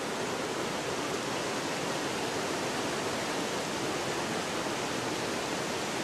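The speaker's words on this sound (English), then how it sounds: "Here the springs are bubbling right up out of the rocks, right up from underneath the rock here." Several springs bubble up out of the rocks along a ridge line beside a walkway in Israel, producing a steady, dense rush of water that runs unbroken and fairly close throughout.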